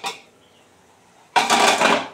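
A cooking pot lid is lifted off simmering green note shak leaves: a faint tap, a quiet pause, then a sudden burst of hissing, clattering sound as the pot is uncovered.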